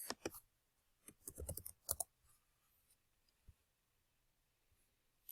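Mouse clicks on a computer while working in Google Drive, a few quick sharp clicks in brief clusters near the start, then mostly quiet with one faint tap later.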